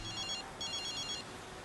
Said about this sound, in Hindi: ऑफिस से फोन आ रहा है।